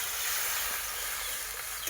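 Water poured onto fried, cooked-down spice paste in a hot pan for a stuffed aubergine dish, giving a steady, close broadband sizzle and hiss that holds throughout without a break.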